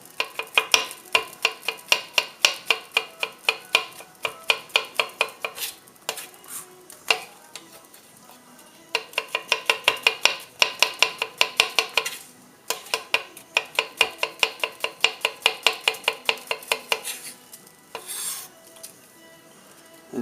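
A knife finely slices mushrooms on a board in fast, even bursts of crisp taps, several runs of rapid chopping separated by short pauses, close and clear.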